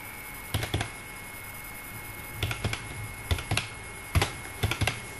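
Scattered bursts of computer keyboard keystrokes as a verification code is entered, arriving in short irregular clusters of clicks close to the microphone over a faint steady hum, with no talking.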